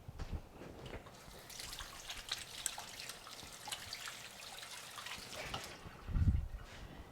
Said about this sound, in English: I'm going to wash this stuff off my hands real quick